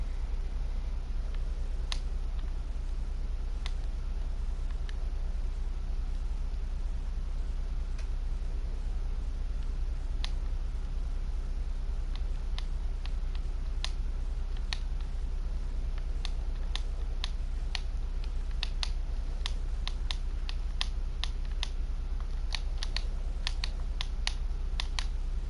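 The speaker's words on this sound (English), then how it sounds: "But me spamming it makes a lot of very loud clicking." Loud, rapid mouse button clicks from spamming during Minecraft play, arriving in irregular bursts that speed into dense runs toward the end, over a steady low hum with no voices.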